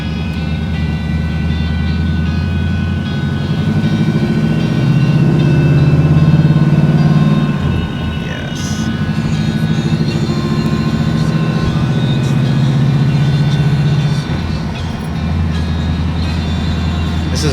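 A 1964 Pontiac GTO driving, its engine a loud, steady low rumble with a brief dip in the middle as it shifts, road and wind noise around it from inside the car.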